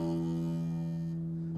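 A guitar string plucked at its exact midpoint rings with a round, sustained tone of strong low harmonics, slightly buzzing, heard close and alone before it is damped near the end.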